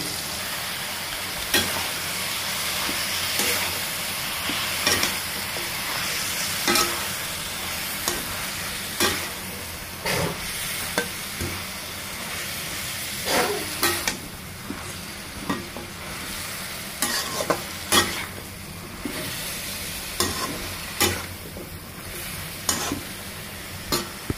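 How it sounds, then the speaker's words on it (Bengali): Malabar spinach stir-fried in spiced masala, a steady sizzle under repeated scraping and stirring strokes of a spoon against the pan, loud and close with no talking. "এখন এর ভেতর আমি পুঁইশাক দিয়ে দেব।"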